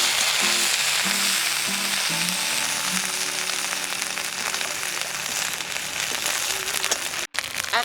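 Black cumin, asafoetida and ginger dropped into hot mustard oil, giving a loud, steady, close sizzle and crackle that fills the whole stretch, with faint stirring clatter along the way.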